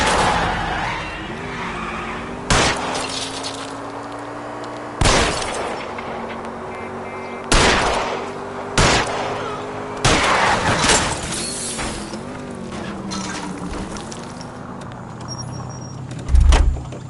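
Gunshots ring out in LA Noire as shots are aimed at a fleeing car's tires, sharp loud reports spaced several seconds apart over the steady drone and skidding of the car.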